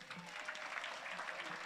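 Audience clapping at an award presentation during a conference opening ceremony, a brief, fairly faint patter of many hands heard from a distance.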